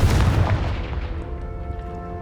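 A Confringo spell blast in the Hogwarts Legacy video game, set in a spider cave: a loud booming burst at the start that rolls into a decaying rumble, with a sustained tonal ringing lingering underneath.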